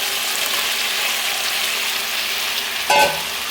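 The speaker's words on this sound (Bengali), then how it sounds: "এখন আমি ভেজে রাখা আলুগুলো এর মধ্যে দিয়ে দিব" Fried potatoes go into a pan of sizzling spiced tomato masala, a steady soft frying hiss with a brief clatter near the end as they are added.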